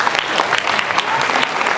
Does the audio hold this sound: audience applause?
yes